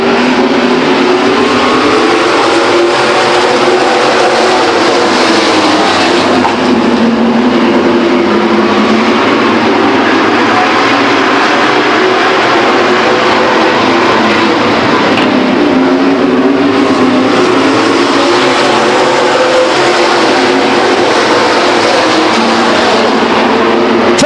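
Race truck engines roar at full throttle at Stockton 99 Speedway, a loud, continuous pack drone that swells and fades slightly as the trucks circle the track.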